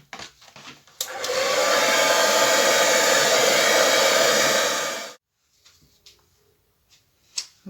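Air blown across wet acrylic paint on a canvas with a hair dryer, a loud steady whoosh lasting about four seconds, then cutting off to near silence with a few small knocks.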